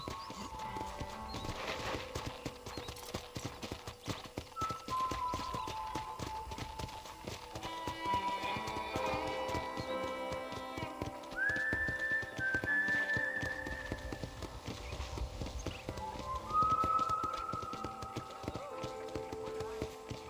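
Steady clip-clop of horse hooves trotting in the video game Red Dead Redemption runs throughout, mixed with a soft musical background and a few brief tonal whistles.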